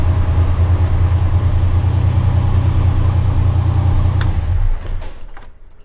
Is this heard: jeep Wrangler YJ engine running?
yes